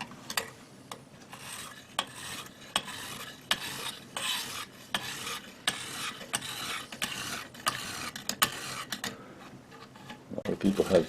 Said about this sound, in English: People have trouble sharpening as they get to the point of the blade, but this Lansky system really does it nicely.